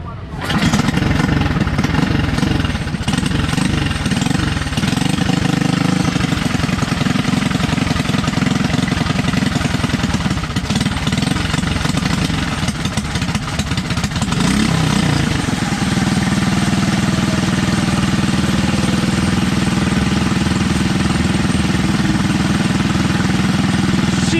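A go-kart engine idles steadily and loudly throughout, with a rough, constant rumble and a slight change in pitch partway through; the exhaust is smoking heavily.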